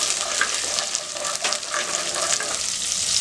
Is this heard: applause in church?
no